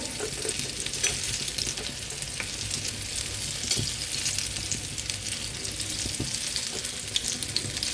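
Cauliflower pakoras deep frying in oil in a small wok, producing a loud, continuous, dense sizzle with occasional stirring clinks over the whole stretch.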